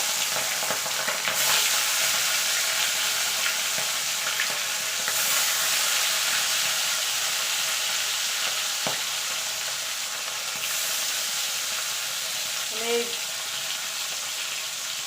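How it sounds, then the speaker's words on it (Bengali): Tangra fish sizzle steadily in hot oil in a Bengali kitchen, a loud continuous frying hiss with occasional stirring clatter and no voices. "এবার আমি এক এক করে মাছগুলো ছেড়ে দেবো।"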